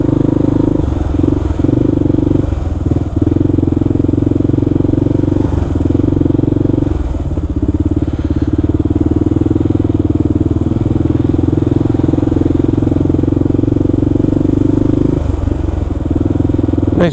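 A Kawasaki KLR650 motorcycle engine drones steadily at close range during a city ride past a bike lane and traffic, with a low continuous hum and occasional clattering, and brief speech over it.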